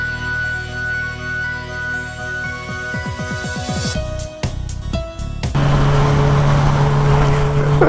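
A Suzuki GSR motorcycle passes in street traffic, its engine note sweeping by with a Doppler-like drop before a louder steady engine drone takes over nearby.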